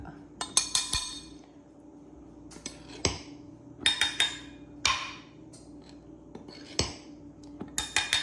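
Metal 1/3 cup measure scooping flour into a bowl for pumpkin coffee cake, sharp clinks and taps against the bowl in short clustered bursts with quiet gaps, close and crisp.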